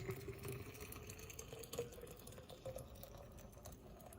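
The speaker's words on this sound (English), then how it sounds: "I'm going to top it up with boiling water." Boiling water pours into a bottle of wild rice in a steady, faint trickling stream with small splashes, close and quiet, no talk.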